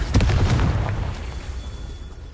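A Confringo spell in Hogwarts Legacy bursts in a single loud, close explosive boom with a sharp onset, then a rumbling tail that fades over about two seconds.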